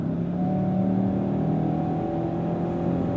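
A 2025 Kia K5 GT accelerates in sport mode, its engine giving a steady, smooth whirring hum with rising tonal lines, heard from inside the cabin with no talk.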